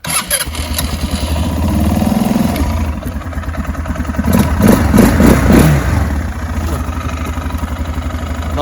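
A Motoleader ML200 quad bike engine in cold, slushy weather cranks, catches and runs with a close, loud, chugging idle, then rises in a couple of revving swells before settling back.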